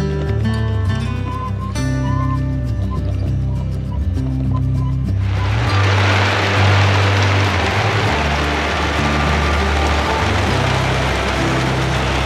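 Heavy rain begins falling in the Peruvian mountains near the Cordillera Huayhuash, a sudden dense hiss that starts partway through and continues steadily over a low droning tone heard from the start.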